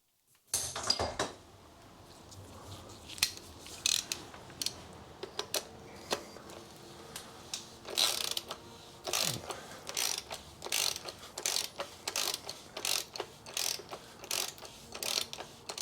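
A ratchet spins a plastic oil filter housing back into a 2013 Ford Transit Custom 2.2 diesel, with rapid clicking bursts repeating close and crisp over a quiet background.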